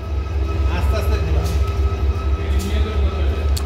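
Deep rumble of a train at Chittagong railway station, with a steady low engine drone and faint clanks on the platform.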